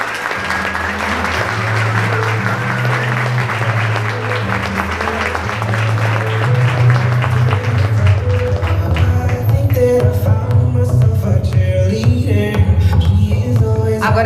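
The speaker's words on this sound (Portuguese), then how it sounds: "a todos vocês, o nosso muito obrigada e uma salva de palmas" An audience at a conference applauds in a broad, sustained wash of clapping, with music and low rhythmic tones underneath that grow busier toward the end.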